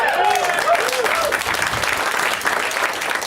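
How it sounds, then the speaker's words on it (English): A live comedy podcast audience applauds steadily, a dense wash of clapping filling the whole moment at a fairly loud, even level with no talk over it. "the audience applauding their appreciation of the same thing"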